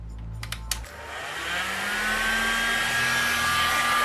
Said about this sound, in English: if you don't have this machine in here, the heater in here, you just need to use a blow dryer